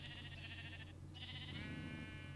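A Minecraft sheep bleats twice, both soft, wavering calls separated by a short pause, over a steady low background hum.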